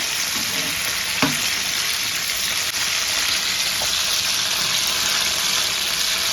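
Green chillies fry in a pan, giving a constant loud sizzle and hiss with a couple of faint clicks and no voices.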